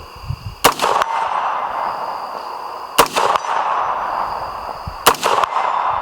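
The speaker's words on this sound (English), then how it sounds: "We're just gonna start ringing some steel here" Three sharp rifle reports ring out at a shooting range, each followed by a brief metallic clang of 55-grain rounds striking steel targets at 100 yards, spaced about two seconds apart with quiet outdoor air between.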